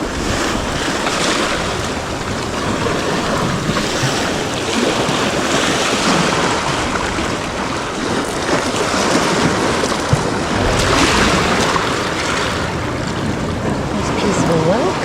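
Ocean waves wash continuously onto a Gulf beach at Lido, with a broad, loud roar of surf and wind buffeting the microphone throughout.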